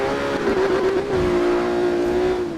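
A Ferrari Enzo's engine in the racing game Need for Speed Rivals holds a steady, loud, sustained drone at nearly constant pitch for under three seconds, with no voices.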